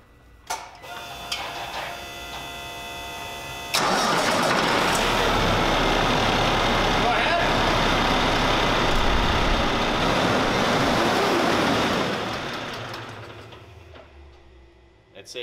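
A Cummins ISX diesel truck engine cranks and fires, settling into a loud, steady broadband running drone that holds for several seconds before easing off near the end.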